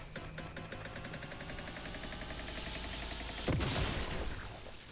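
An electric grenade goes off in The Last Caretaker, a sudden crackling burst that cuts through steady mechanical game noise, followed by a loud, lingering fizzing wash.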